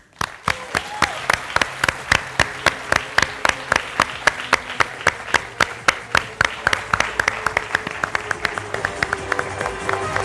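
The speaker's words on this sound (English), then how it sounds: "please give a big round of applause to welcome the chief guest" Audience applause welcoming the chief guest at a college festival opening ceremony, a crowd clapping in a strong, regular rhythmic beat that stays loud and even for about ten seconds.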